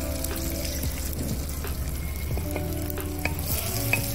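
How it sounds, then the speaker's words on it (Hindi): Garlic and a small onion frying in a pan for a brinjal fry, a steady close sizzle with occasional stirring clinks and scrapes, no voices. "ये प्याज को थोड़ा फ्राई करके इसके ऊपर बैंगन डाल देंगे"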